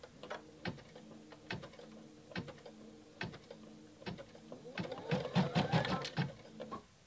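An embroidery machine stitches free-standing lace with a steady run of rhythmic mechanical clicks and needle thumps, close and clear, growing busier and denser toward the end.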